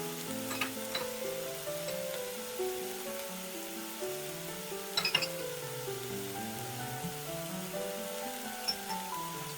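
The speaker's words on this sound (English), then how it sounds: "Stir and cook until the spices smell toasted, about 5 or 6 minutes." Spice powders toast in a pan for homemade curry sauce, a low steady sizzle under occasional clinks and scrapes of stirring, faint and close, with no talking.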